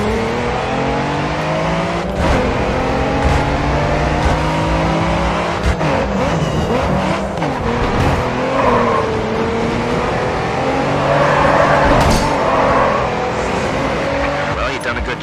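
Race car driving in the video game GRID 2 on a Chicago street circuit, with a steady loud engine drone, repeated tire squeals and skids through the turns, and crash sounds, under occasional talk.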